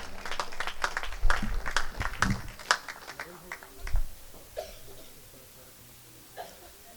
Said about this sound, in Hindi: एक बार तालियां जोरदार बजाइए अपनी एकता के नाम पे।